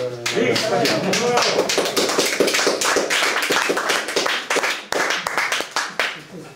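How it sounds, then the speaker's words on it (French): Audience clapping at the close of an evening talk on rare books, starting with a brief voice and building into a mix of close, uneven claps with murmured talk beneath. "S'il n'y a plus de questions, on va applaudir."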